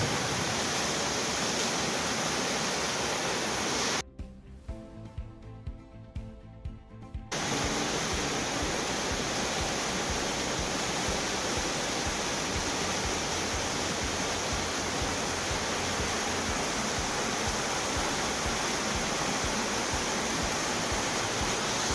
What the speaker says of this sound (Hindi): कितना शानदार ये वाटरफॉल